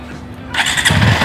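A motorcycle that seems faulty and reluctant to start is cranked. After a quiet half second, a loud, rough burst of engine noise begins and keeps churning to the end, with no voices.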